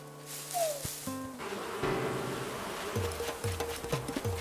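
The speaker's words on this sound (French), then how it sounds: "Le problème des arbres, c'est qu'il y a les guêpes." Wasps swarm out of a shaken tree in the Animal Crossing video game, a buzzing drone under bright game sound effects and music blips, with a rising zip near the start.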